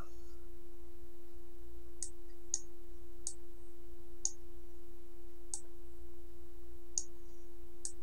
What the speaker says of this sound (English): here's where you can click on change picture and upload new